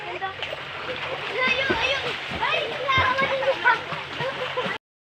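Water splashes in a village stream, a busy, continuous splatter close by with people talking over it the whole time.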